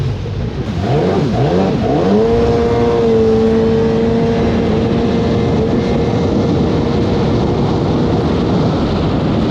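A 1995–96 Sea-Doo XP personal watercraft engine cranks and catches, then revs up quickly and holds a loud, steady high-pitched whine close by, with no talking.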